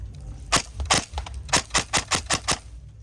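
A Tokyo Marui P90 airsoft gun fitted with a brass inner barrel and a new hop-up rubber fires about ten sharp, snappy shots, some in quick succession, close and clear with no talking.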